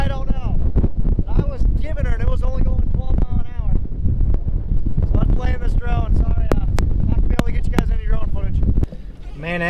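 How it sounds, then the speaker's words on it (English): Strong gusty wind buffets the microphone on an Iowa farm, a loud rushing roar that continues under someone talking throughout and eases slightly at the end. "that got real windy all of a sudden"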